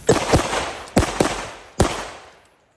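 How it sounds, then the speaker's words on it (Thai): Three loud, sharp Glock 19 pistol shots fire about a second apart, each with a sudden broadband crack and a decaying ring-out, the last fading to near silence. "เดี๋ยวเรามายิงดู ติดอีกไหม"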